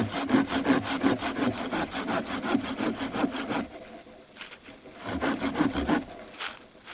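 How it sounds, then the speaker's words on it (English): A hand saw cuts through a wood branch at a campsite, steady back-and-forth rasping strokes, close and loud, pausing briefly before a few more strokes resume. "Now, you've sawed this side. You're going to flip it around and saw the other side."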